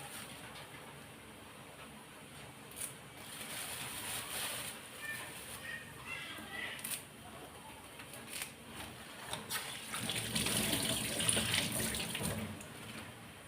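Tap water runs steadily into a sink while curry leaves are washed, a continuous close splashing hiss that swells louder toward the end, with a voice speaking faintly underneath.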